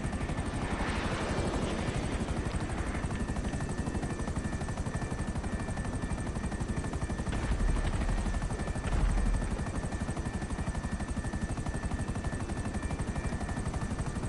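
A Havoc helicopter in GTA flies with a steady, dense rotor drone throughout, with faint hints of gunfire mixed in; no one speaks.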